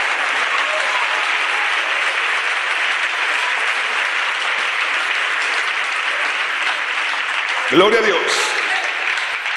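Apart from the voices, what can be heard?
church congregation applause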